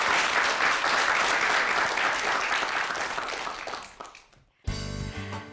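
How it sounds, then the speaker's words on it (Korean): Indoor lecture audience applauding a visiting professor: dense, loud clapping from many hands that fades out after about four seconds, then a musical sting follows. "다시 한번 박수 부탁드립니다."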